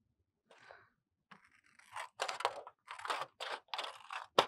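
A piece of plastic cut by hand along one side for a shrinking ring craft, a series of close crunchy snips and scrapes coming in quick bursts, growing louder toward the end.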